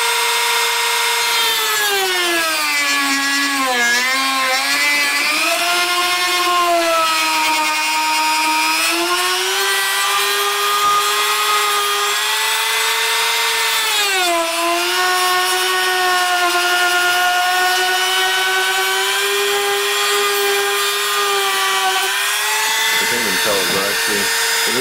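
A power tool cuts steadily through a PSU shroud part for a Define S case, a loud continuous whine that dips and rises in pitch as the blade loads up; close and sustained with no talking.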